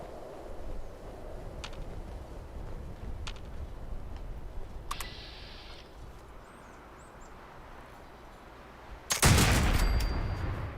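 The Instigating Dragon legacy weapon in Fallout 76 fires as a few sharp, isolated shots over a low steady game ambience, with a louder burst of gunfire near the end.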